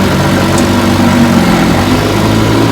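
A restored Johnson FDL-11 outboard boat motor idles in a test barrel with a loud, steady, even engine drone that holds unchanged throughout, close up and with no voices.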